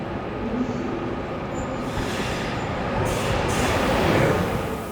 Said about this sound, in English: trains from the east arrive here at Berlin's main station